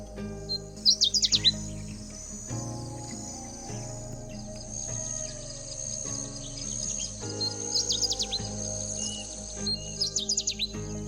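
A bird in a rainy northern Thailand forest gives repeated bursts of sharp, chirping calls over a steady background of insects, with the calls coming in quick clusters at a moderate distance.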